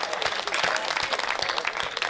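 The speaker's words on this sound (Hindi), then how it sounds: "तालियां चाहता हूं आपसे" Audience at a Hindi comedy poetry show breaking into sustained applause, dense loud clapping from a crowd throughout.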